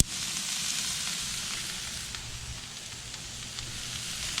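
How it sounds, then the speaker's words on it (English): Peppers and onions sizzle and fry in hot vegetable oil in a non-stick pan, a steady, close, continuous hiss with faint crackles throughout and no talking. "I'm just pouring our pepper mix right in there"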